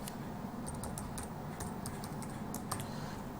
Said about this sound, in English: So type your ID and just type your password